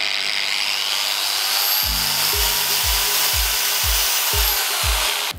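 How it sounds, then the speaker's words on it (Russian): A Grand MSHU 125-1550SE 125 mm angle grinder, a budget copy of the Makita GA5021C, runs steadily with a soft start, giving a close, continuous high-pitched whir. Regular low thumps pulse underneath. "Как вы услышали, УШМ имеет плавный пуск."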